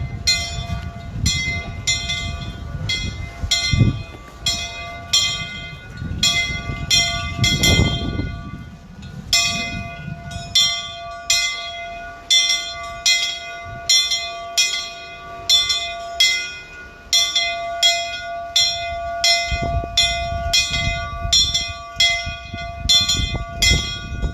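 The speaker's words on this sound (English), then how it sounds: "as the bell is tolling at 8:46" A memorial bell tolls at a 9/11 wreath-laying ceremony at Two Lovers Point, Guam. Regular, evenly spaced strikes ring out loudly, each leaving a sustained metallic hum over a low background rumble.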